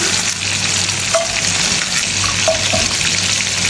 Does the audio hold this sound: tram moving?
no